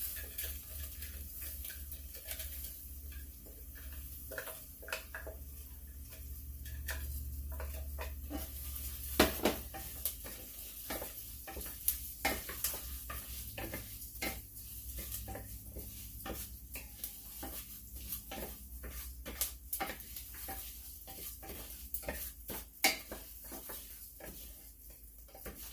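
Rice is stirred into sizzling shredded beef in a pan, with steady frying hiss under irregular scraping and clinking of a utensil against the pan for about half a minute.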